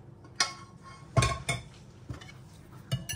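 A cold sauce being mixed in a bowl for a moist cake, with several sharp utensil clinks against the bowl spaced irregularly over quiet background, no talking.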